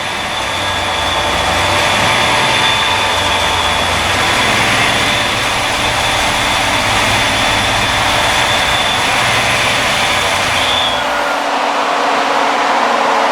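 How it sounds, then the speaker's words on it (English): Turbocharged Foxbody Mustang engine idling steadily with a loud broadband roar and a faint high whine, the surge barely evident, a cooling fan running alongside; the sound drops away near the end. "We're still having some idling surge issues. It's surging up, surging down a little bit."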